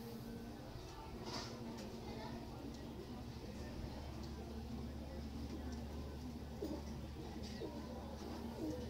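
Hino pigeons from a breeding pair coo softly and repeatedly, faint and somewhat distant, with a low steady hum underneath.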